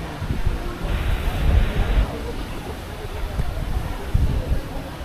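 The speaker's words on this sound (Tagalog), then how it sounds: "Sobrang hangin." Strong wind buffets the microphone at a seaside spot in Cebu, a constant rumbling roar with gusty swells, while a voice speaks briefly under it.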